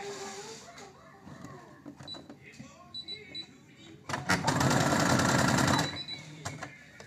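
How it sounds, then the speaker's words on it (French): Sewing machine running a seam in fabric for a bow, a long steady burst of rapid mechanical stitching near the end after quieter handling noises and brief talk. "Je viens coudre ce côté-là, et au milieu, je laisse les 3 cm d'ouverture"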